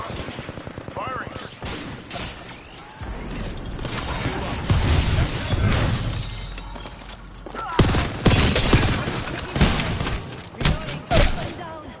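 Heavy gunfire in Apex Legends, with sustained bursts and thumping impacts that swell and fade in waves. A player talks intermittently over the shooting.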